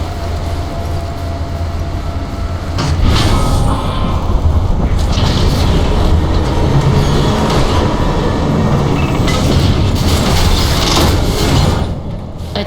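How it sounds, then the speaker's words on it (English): A heavy cargo tram in the video game Lost Planet 3 rumbles loudly and steadily, a deep rolling drone with rattling and clanking over it that fades near the end. "Attention. Heavy cargo tram is docked and ready."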